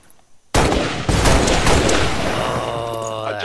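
A gunshot in XCOM 2 goes off with a loud sudden crack, then rapid follow-up shots and booming impacts that decay into a ringing tail, heard alone without talk.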